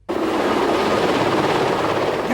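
Helicopters fly over Paris, producing a loud, steady, broadband rotor roar that starts abruptly and holds constant throughout at close range, with no talking.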